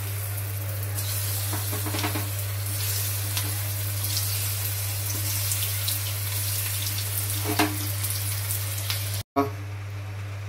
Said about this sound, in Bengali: এদিকে আমার ম্যারিনেট করা হয়ে গেছে, আর এদিকে তেল অলমোস্ট গরম। এবার আমি এক এক করে ছেড়ে দেবো।